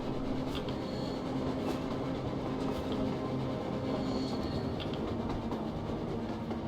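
A train runs on the surface in the Metro Exodus video game, a continuous loud rumble of wheels and rolling carriages with faint rhythmic clatter, steady throughout with no voices.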